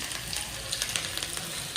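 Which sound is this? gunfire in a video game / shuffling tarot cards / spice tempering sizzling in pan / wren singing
spice tempering sizzling in pan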